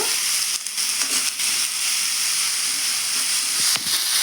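Tamarind and tomatoes frying in a pan over a low flame give a continuous, close, bright sizzle and hiss, broken by a few brief stirring scrapes and crackles, with no voices.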